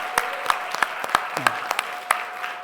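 Scattered hand clapping from a church congregation during a Sunday service, a handful of distinct claps spaced irregularly at moderate volume in a reverberant room.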